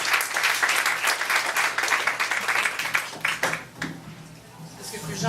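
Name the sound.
audience applause for performers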